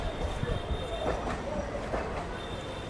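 A local passenger train at Botad junction rumbles past with rail clatter and brief wheel squeals, heard close and steady, with some talk faintly in the background.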